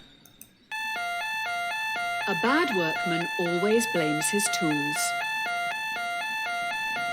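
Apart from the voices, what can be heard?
alarms going off in video game Trolley Problem Inc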